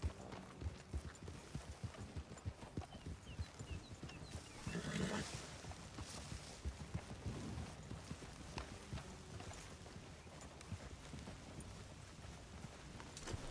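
Steady clip-clop of horse hooves in the video game Red Dead Redemption 2, fairly close, with a brief whinny partway through over a busy outdoor background.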